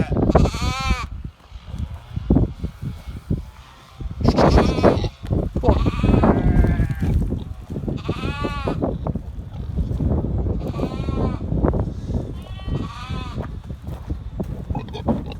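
Bluefaced Leicester sheep and lambs bleating on a farm: repeated loud, wavering bleats from several animals, some close, over a constant rustle and movement of the flock.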